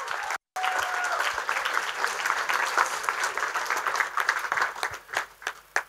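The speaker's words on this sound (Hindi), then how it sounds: "जोरदार तालियां हो जाए।" Loud, sustained audience applause fills a stage event honouring a song performance at a college production, dense clapping steady throughout with a brief dropout near the start and tapering slightly at the end.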